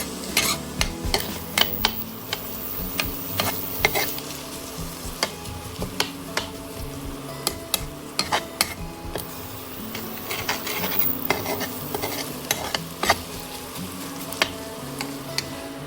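Onions frying in a pan for Maggi noodles, a constant soft sizzle broken by repeated sharp scraping clicks of a utensil stirring, close and alone.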